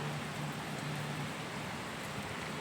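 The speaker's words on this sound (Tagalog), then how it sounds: "Ngayon po ay umulan." Rain falls in Dammam, Saudi Arabia, a soft, steady hiss of drops at low level, even and continuous for the whole stretch with no talking.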